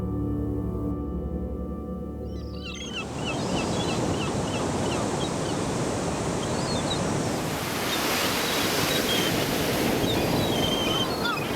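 Surf of the Indian Ocean rolls in as a steady, loud wash of broadband roar, swelling after a quieter opening and continuing unbroken, with faint bird calls above the noise.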